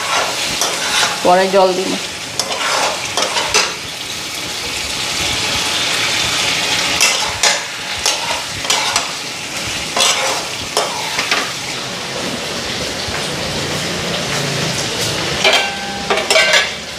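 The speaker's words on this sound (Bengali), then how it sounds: "ঝিঙ্গাটা দিয়ে একটু ফ্রাই করে নিই" Ridge gourd frying with spices in a pan sizzles steadily and close, with stirring clatter and scraping at intervals, while someone briefly speaks over the cooking.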